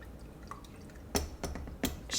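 Homemade coconut rum dripping as it is poured during filtering, a few distinct wet drips and splashes, close and fairly loud, spaced irregularly over a couple of seconds.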